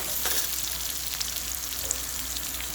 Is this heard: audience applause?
no